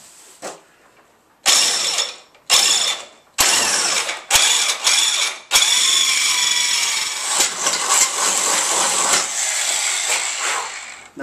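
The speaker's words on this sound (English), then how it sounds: "anyone who ever cut stainless or drilled stainless before knows it does like to catch hold of the drill." Heavyweight stainless steel tabs for a tow hitch are drilled in a home garage, with a series of short, loud bursts of drill grinding that give way to one longer continuous bite, close and harsh.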